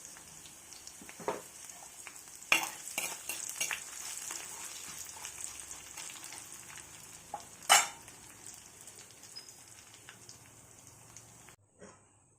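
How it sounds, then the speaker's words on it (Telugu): Mustard seeds, cumin, urad dal, chana dal and dry red chillies sizzle in two spoons of oil in a kadai, a steady crackling hiss with a few sharp pops and spoon clinks, cutting off abruptly at the end. "అందులో కొద్దిగా రెండు స్పూన్లు ఆయిల్ వేయాలి ఇదిగోండి ఆవాలు జీలకర్ర మినపప్పు శనగపప్పు ఎండుమిర్చి వేసాను"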